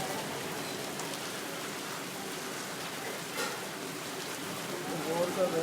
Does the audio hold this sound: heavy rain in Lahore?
yes